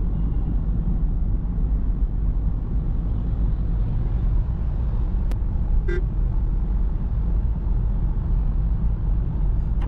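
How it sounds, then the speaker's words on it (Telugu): Dense city traffic entering Navi Mumbai, a steady loud roar of engines and road noise throughout, with a couple of brief car horn toots partway through. "ఇక్కడ నుంచి ఇక ఫుల్ ట్రాఫిక్ అయితే చూపిస్తుంది మాకు."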